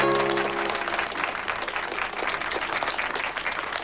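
An audience at a comedy celebration event applauds warmly, a dense, steady wash of clapping that carries on alone for several seconds.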